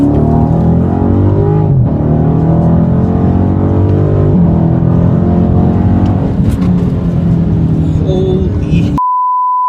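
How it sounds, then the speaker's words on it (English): A Dodge Daytona 392 engine revs hard and close, a loud rising and falling roar with harmonic sweeps that holds for nearly nine seconds before cutting to silence. "we're going to give it just a small little brap here"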